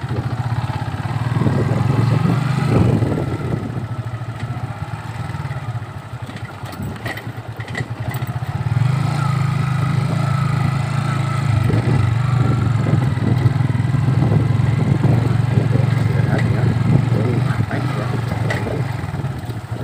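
A motorcycle engine labours over a slippery, muddy road, with a steady mid-pitched drone that rises and falls with throttle. Faint talk sits underneath.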